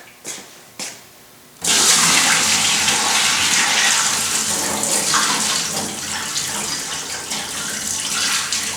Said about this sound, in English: So you can always pour out the extra water.